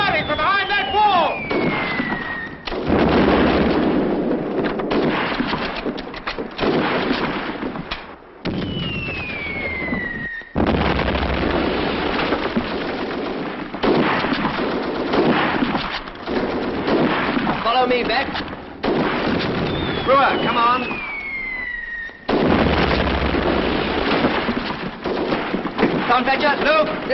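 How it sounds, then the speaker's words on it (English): Battle-scene gunfire and explosions from a 1944 war film, with loud sustained blasts and crackling shots filling most of the scene, briefly dropping out twice, while shouted voices and whistling shells cut through the din. "Firing from behind that wall!"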